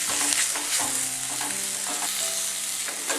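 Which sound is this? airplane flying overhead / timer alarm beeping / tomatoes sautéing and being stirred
tomatoes sautéing and being stirred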